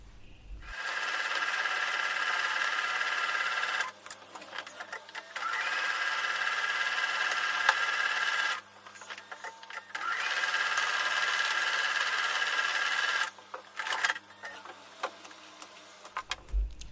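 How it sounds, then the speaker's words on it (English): Sewing machine stitching quilt block pieces for a flipped flying geese block, running in three long continuous stretches with brief pauses between, steady and close with no speech. "I'm going to take these back over to the sewing machine"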